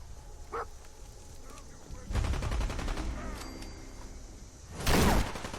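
Gunfire from a weapon in Fallout 4 rings out in a loud burst of rapid shots lasting a few seconds, followed by a sharp, heavy blast near the end.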